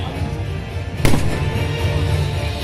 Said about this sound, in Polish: I kolejna salwa, salwa ze szwedzkich dział.